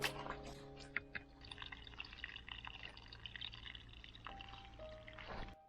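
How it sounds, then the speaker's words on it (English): Running water flows across a cabin driveway in the woods, a steady close pouring and trickling that continues throughout with a few drips, no talking. "Got running water coming across the driveway."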